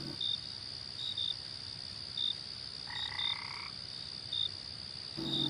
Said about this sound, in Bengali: হঠাৎ হঠাৎ করে ব্যাঙ ডাকছে